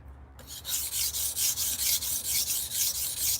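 A kitchen knife being finished on a 6000 grit whetstone gives steady, rhythmic rasping strokes, about a dozen even back-and-forth passes, close and fairly loud with no talking.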